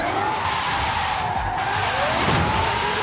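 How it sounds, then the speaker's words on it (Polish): Hyundai N Vision 74 electric car drifting in the racing game Forza Horizon 5, with a steady, loud tire screech and electric motor whine sustained throughout, no talk. "Zwłaszcza w Fordzie Horizon 5 samochodami elektrycznymi driftuje się łatwo"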